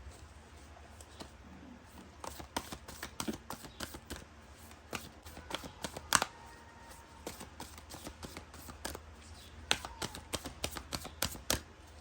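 Tarot cards are shuffled as a quiet, close run of crisp flicks and taps that comes in uneven clusters over a low steady background.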